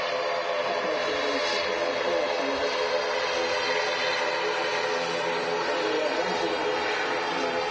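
An ATR turboprop airliner departs Manchester Airport for the Isle of Man, its steady broadband engine and propeller roar holding loud and even throughout with no talk over it.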